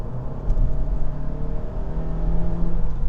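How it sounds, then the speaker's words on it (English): Honda Civic Hatchback accelerating with a little turbo spool, a loud steady engine drone rising slightly with a faint whir, heard from inside with no talking. "With a little bit of turbo spool."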